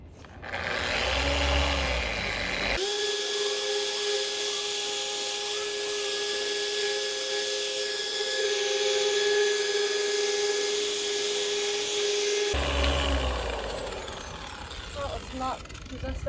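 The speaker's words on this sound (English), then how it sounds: "This Abernet is perfect for dry sanding" A power sander dry-sanding hard, oxidized boat gelcoat runs as a loud, steady whine with sustained tonal hum, starting after a few seconds and cutting off near the end, with rougher handling noise before and after.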